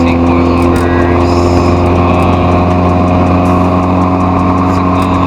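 Honda Integra with a swapped K-series engine and 8th-gen Civic Si transmission running close by, a loud, steady idle with a strong low hum and even rumble throughout, with faint voices in the background.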